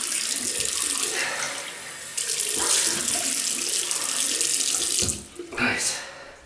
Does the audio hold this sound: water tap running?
yes